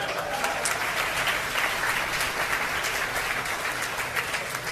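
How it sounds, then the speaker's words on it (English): Dense audience applause at a hospital groundbreaking fills the room, a steady wash of many hands clapping at once without letting up. "Big applause."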